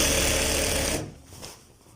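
A sewing machine runs fast and steady up close as it stitches a child's kurta, a dense mechanical whir that stops abruptly after about a second, leaving faint handling noise.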